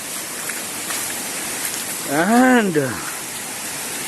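Water runs and patters steadily through a dense monsoon forest in Goa, a continuous wash that fills the scene, broken near the middle by a brief voiced sound.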